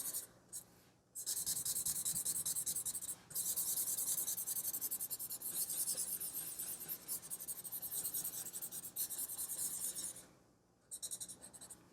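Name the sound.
pencil blending shading on paper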